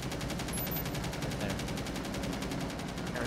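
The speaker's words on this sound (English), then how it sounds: "Who the fuck is shooting?" Rapid automatic gunfire from the video game Rainbow Six Siege forms a continuous fast stream of shots throughout, steady and moderately loud with no voices.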